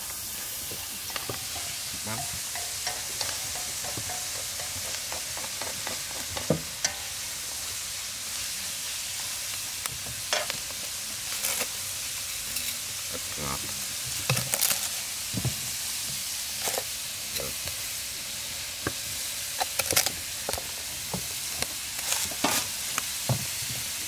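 White clams (hến) stir-fried in a pan, giving a continuous soft sizzle with scattered clicks and scrapes of stirring, fairly quiet and without talk.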